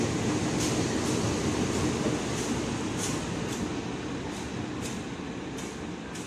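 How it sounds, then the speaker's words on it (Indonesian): A locomotive rolling into a station on its way back to the Cipinang depot in Cirebon, a steady low rumble with faint rhythmic clicks of wheels over rail joints, sustained at moderate distance throughout. "Dari jalur 7 sisi barat masuk lokomotif pulang depo Cipinang"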